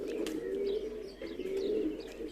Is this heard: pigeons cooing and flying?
yes